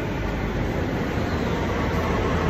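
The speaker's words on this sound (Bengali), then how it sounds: "এই যে আমাদের মেট্রো চলে আসলো, পিছনে আসছে মেট্রো" A Delhi Metro train pulls into an underground station with a loud, steady roar and rumble that fills the platform.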